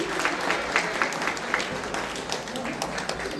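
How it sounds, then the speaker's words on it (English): An outdoor crowd at the ISKCON Barrie Chariots Festival applauds its volunteer team, a steady wash of many hands clapping at moderate volume with scattered sharper claps standing out. "So big round of applause to our entire volunteer team."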